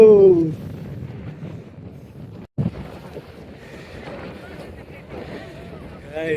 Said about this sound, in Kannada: ಅಷ್ಟು ಫಾಗ್, ಅಷ್ಟು ಗಾಳಿ ಇದೆ.